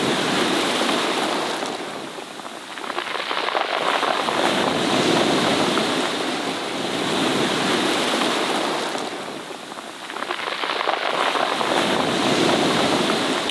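Surf surges in and drags back over a stony pebble shore at Cinque Terre, Italy, in slow waves, a rattling, hissing rush of pebbles rising and falling as water recedes, with wind.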